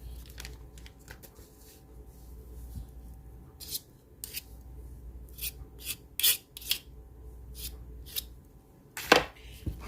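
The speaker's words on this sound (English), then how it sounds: "I'm just going to cut it in small little pieces and sections like so that it's easier to mix into my bread." A knife cuts an ingredient into small pieces for Hawaiian burger bun dough, producing quiet scraping and rubbing with a scattered series of sharper chopping taps on a board, fairly close.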